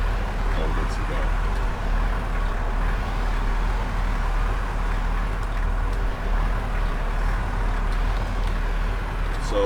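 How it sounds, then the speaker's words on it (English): A video game car's engine runs steadily with a continuous low hum and road-like rumble, loud and unbroken throughout the clip. "So now it's full battery. Start the engine."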